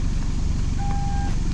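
A car's kick-activated power tailgate closes with a single steady electronic beep tone over a constant low rumble of vehicle and outdoor noise, fairly close and without speech.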